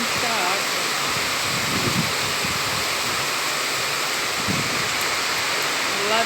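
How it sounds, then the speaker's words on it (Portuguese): Heavy rain pours in Maceió, a dense, loud, steady roar of falling water filling the space, with a faint voice murmuring underneath at times. "É água. É muita água."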